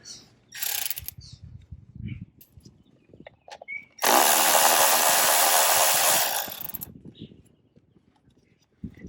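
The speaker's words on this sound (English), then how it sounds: "the first thing we're going to do is remove this bolt" A tool removes a bolt on a Ford F-series Coyote V8 engine during spark plug replacement. A few short mechanical clicks lead into a loud, close, sustained whir lasting about two seconds, followed by quieter clicks and handling.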